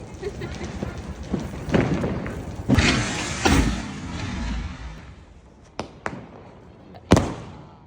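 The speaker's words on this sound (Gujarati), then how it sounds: "અને બોમ્બો ફોડાનો બહુ અવાજ આવે." Several Diwali firecrackers and rockets burst with sharp bangs and crackling, some distant thumps and a loud close pop near the end, with voices underneath.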